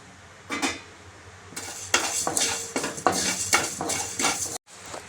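Fenugreek and cumin seeds rattle and scrape in a pan without oil as a spoon stirs them, in repeated bursts with a faint crackle between, and no talking.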